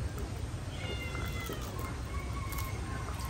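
A cat meowing indoors, faint drawn-out meows over a steady low background hum.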